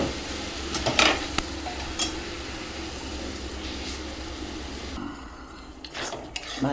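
Doi chicken with kasuri methi is stir-fried in a pan, with a soft sizzle under intermittent stirring scrapes and clinks of utensils.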